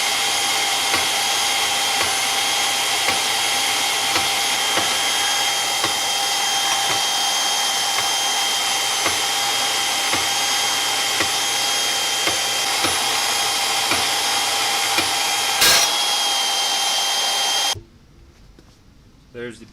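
A portable band saw trims a metal jack extension piece for a 5x8 trailer gate, giving a loud, steady whining cut that runs nearly eighteen seconds before stopping abruptly, followed by quiet.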